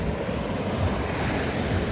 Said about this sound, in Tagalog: Sarap ng alon, no?